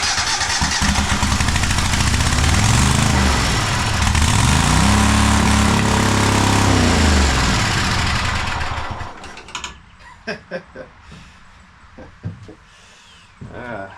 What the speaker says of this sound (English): Someone tell me why it is that now we have a runaway engine.